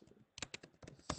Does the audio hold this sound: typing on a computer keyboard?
yes